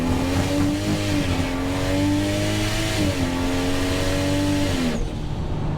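A Toyota Supra sports car engine roars under hard acceleration in third gear, its pitch climbing steadily with a brief dip at a shift, loud and close, tyres fighting for traction.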